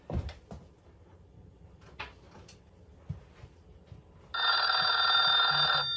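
A retro Bluetooth chatter phone rings with an incoming call: after a few soft clicks and clatters of handling, a loud electronic bell-like ring sounds for about a second and a half.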